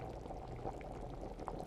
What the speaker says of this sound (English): I'm going to pour a little bit of this potion right into the kitty bowl